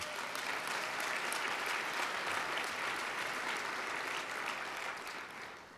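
A university theater audience applauds at an event, producing a steady, dense clapping that holds for several seconds before tapering off at the end.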